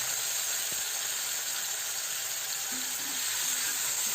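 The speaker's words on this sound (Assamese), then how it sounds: "এতিয়া মই বিলাহী, নহৰু আৰু জলকীয়া এটা, শুকান জলকীয়া, এইখিনি এতিয়া ভাজি ল'ম" Tomato, garlic and a dried chilli fry in oil in a wok, giving a continuous, even sizzle and hiss that stays at the same level throughout.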